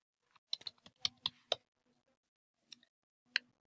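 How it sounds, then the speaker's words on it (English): Computer keyboard typing while entering a website title, heard as short bursts of crisp key clicks, a quick cluster followed by a pause and a few isolated taps, close and fairly quiet. "So I'm going to type that in."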